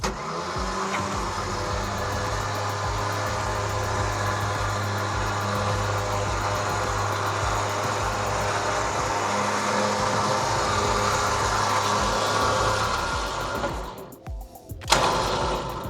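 Electric DV8 winch motor reeling in its cable, a steady close whirring drone that runs continuously for most of the stretch before cutting out near the end, followed by a clunk.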